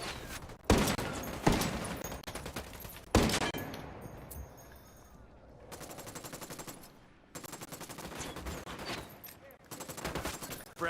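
Bursts of automatic gunfire ring out in Ghost Recon Wildlands at a narco camp entrance, loud sharp volleys separated by brief pauses, then sustained rapid firing toward the end.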